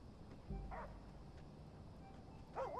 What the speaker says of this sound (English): Dog barking.